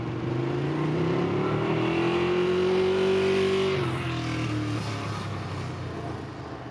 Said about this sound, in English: 955cc, 90-degree L-twin engine powers the 959.